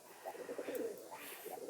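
Pigeons cooing inside a loft on a hot early afternoon, soft repeated throaty coos rising and falling close by with a faint high chirp, no talk.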